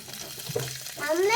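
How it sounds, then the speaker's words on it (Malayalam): A little rice frying in hot oil in a home kitchen, a steady close sizzle with a stirring scrape, and a voice rising over it near the end. "ഇച്ചിരി അരി വറുക്കാനുണ്ട്."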